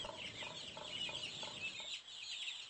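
A rooster or chicken clucks in a quick repeated rhythm, a run of short clucks that stops near the end, faint and distant in the background.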